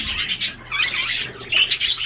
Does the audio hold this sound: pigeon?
yes